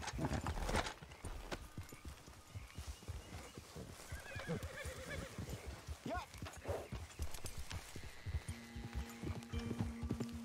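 Horse hooves clip-clop steadily in Red Dead Redemption 2, with occasional neighing and whinnying, heard beneath game dialogue and someone talking.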